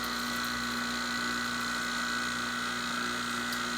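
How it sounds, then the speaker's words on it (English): A vacuum pump hooked to A/C refrigerant manifold gauges runs steadily, a constant hum with a strong tonal whine and even mechanical buzz, close and unchanging with no speech. "we're going to shut off the vacuum source"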